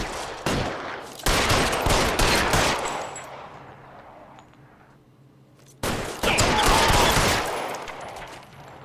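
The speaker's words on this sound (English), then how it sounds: "Welcome to the shootout." Rapid gunfire from a shootout in the video game L.A. Noire, loud bursts of automatic and repeated shots that trail off into a quieter lull before another heavy volley erupts near the end.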